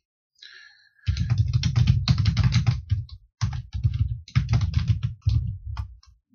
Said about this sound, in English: Have to stop talking, otherwise I'll type whatever it is I'm saying.